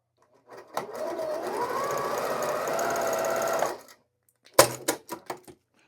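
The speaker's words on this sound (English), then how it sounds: "I'm not pushing the fabric through. I'm just letting the machine do all the work." Sewing machine stitching through quilting fabric scraps, a steady close whirring run of about three seconds, then a pause and a few short separate bursts of stitching.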